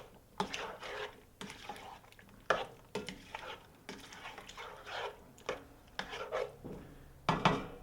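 Spoon stirring honey into peaches in a pot, irregular close scrapes and clinks against the metal with soft wet sounds between them.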